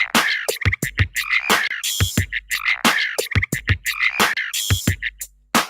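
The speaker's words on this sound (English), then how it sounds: "that's a field cricket" Rhythmic, repeating calls from a field cricket by the Chesapeake Bay, strong pulsed bursts in a looping pattern, loud and close with no voices.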